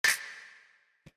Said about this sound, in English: all this is like this really punchy snap sample, which I just put through a bunch of reverb.